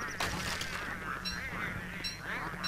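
Penguins in the game Don't Starve honk and squawk loudly in a noisy, overlapping chorus of nasal calls, close and continuous.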